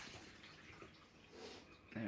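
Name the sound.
liquid draining off mushrooms into a jug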